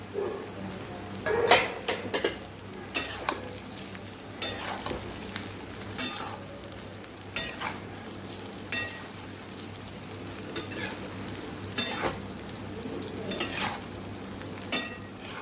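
A spoon scrapes and stirs dhokla pieces, sesame seeds and dried coconut in a hot pan of tempering, with periodic clanks against the metal over a steady soft sizzle.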